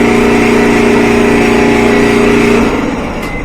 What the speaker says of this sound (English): And you hear this loud noise. So I think the motor is just spinning and not connected to the belt.